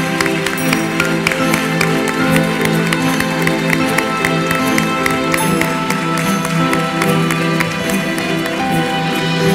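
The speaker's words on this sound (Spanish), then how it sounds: "Un aplauso." Audience clapping and cheering at a sports awards gala in Conil, loud and continuous throughout, with strong tonal music or voices layered underneath the crowd noise.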